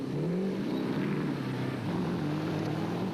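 Nashua Mobile rally car labouring through deep mud on the first lap of the Lesotho Sun 400, its engine droning steadily and loudly with a wavering pitch, close and continuous with no talk.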